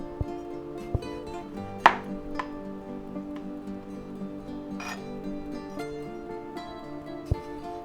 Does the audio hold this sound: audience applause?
no